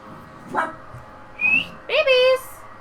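Young puppies give a few short, high yips and whimpers close by, with a brief whistle-like squeal, amid quiet background movement.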